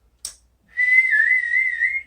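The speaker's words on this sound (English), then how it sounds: "it's a little hard to whistle at the moment" A person whistles a single sustained, slightly wavering tone after a brief click, clear and close with no talking.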